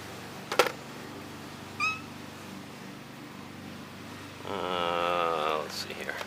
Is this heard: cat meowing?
yes